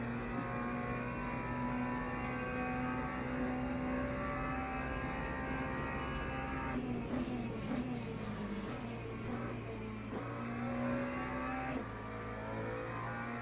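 Race car engines in the sim racing game Le Mans Ultimate drone steadily at high revs, a dense continuous roar with slight pitch shifts as cars lift and close up, no voices heard.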